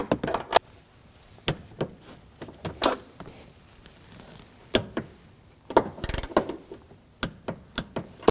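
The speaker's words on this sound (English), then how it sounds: "The new nuts for the top of the strut can be tightened down with a 16mm and torqued to 22" Ratchet with a 16mm socket tightening the new upper strut nuts on a 2013-2015 Subaru XV Crosstrek rear shock and spring assembly, heard as scattered sharp clicks and short bursts of ratcheting, close and fairly quiet, with no talking.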